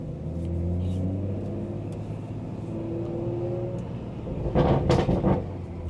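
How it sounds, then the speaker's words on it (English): BMW 340i with a B58 turbo engine driving, a steady low rumble of engine and road noise with a brief louder surge and hiss near the end, heard from inside the car. "Listen to the turbos, man."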